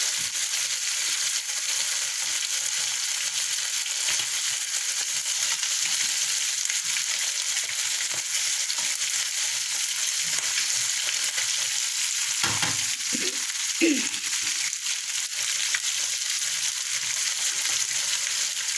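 Steady, crackling sizzle of anchovies frying in hot oil in a pan, loud and continuous throughout, with a few brief stirring scrapes midway.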